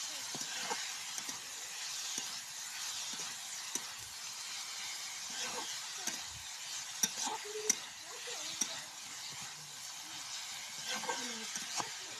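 Onions fry in a pan with a constant soft sizzle, punctuated by frequent scrapes and clinks of a spatula as they're stirred.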